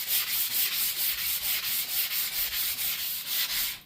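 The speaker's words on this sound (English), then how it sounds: "I'm going to just sand it down to make it look a lot nicer and brand new." A metal flagpole pipe being sanded by hand to remove black marks and dirt: steady back-and-forth abrasive rasping strokes, about four per second, loud and close, with no talking.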